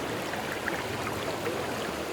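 Water flows at the Ta-Yai waterfall stream beside a campsite at Khlong Maduea in Thailand, making a constant, even rushing hiss with no breaks, heard alone without voices.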